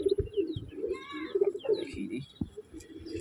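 Madras pigeons coo softly in short repeated low calls at close range, with a few higher chirps mixed in.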